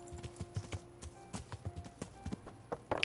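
A wild horse's hooves clip-clop in Kingdom Come: Deliverance, a quick, uneven patter of faint hoof strikes with a soft snort near the end.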